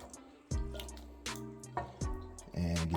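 A lime is dropped into sea moss soaking in water, giving several soft wet plops and drips close by, spaced about half a second apart with a low liquid rumble between them.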